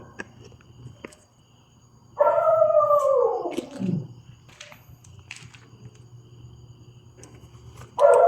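One long, falling dog howl rises out of a quiet hum, followed by scattered faint clicks and the start of another howl at the very end.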